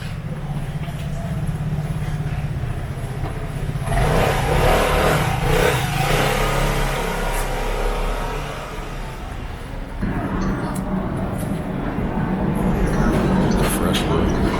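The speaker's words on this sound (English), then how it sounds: "They got motorcycles like crazy out here." Engines of passing motorcycles on a busy street in Rome rise and fall in waves of revving and droning, with traffic noise throughout and a voice talking in between.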